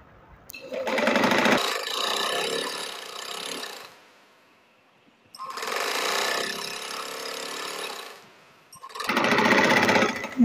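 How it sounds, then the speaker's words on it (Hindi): A sewing machine stitches along a fashion strip on a garment, in three loud, steady bursts of mechanical whirring separated by short pauses. "अब जो मैंने नीचे फैशन पट्टी अटैच की थी उस पर भी सिलाई लगा दूंगी"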